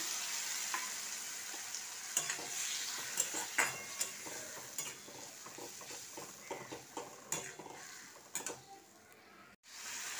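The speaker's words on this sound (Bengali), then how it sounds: "আদা রসুনটা ভাজা হয়ে গেছে, এবার এতে মশলাতে জল দিয়েছিলাম সেটা দিয়ে দিলাম" Frying ginger and garlic sizzle loudly in a pan as spiced masala water is poured in, a steady hiss broken by scattered clicks and scraping stirs, with a sharp knock near the end.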